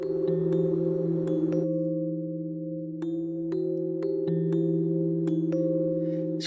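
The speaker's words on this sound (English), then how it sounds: "This is just a typical algorithmic reverb." A tonal synth part played through a typical algorithmic reverb in the Frostbite 2 plugin: sustained low chord tones with sharp plucked notes whose tails ring and smear into a lingering wash, heard alone.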